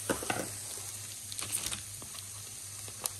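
Rissoles frying in a pan give a light continuous sizzle with scattered pops and spatters, a few sharper crackles near the end, no talking.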